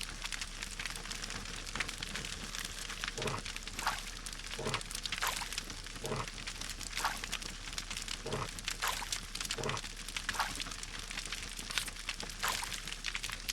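Water poured in the survival video game No One Survived, a steady rushing splash of liquid running continuously at moderate level, with no talk.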